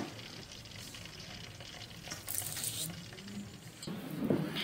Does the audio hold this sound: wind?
no